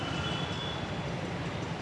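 An elevated metro train at a Mumbai station produces a steady rolling rumble with a thin high whine above it, heard continuously and without speech.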